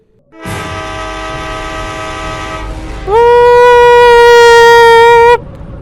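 A loud train horn sounds in the Choo Choo Charles mobile game, one long steady blast that jumps to a higher, brighter tone partway through, holds, then cuts off abruptly, with no talking over it.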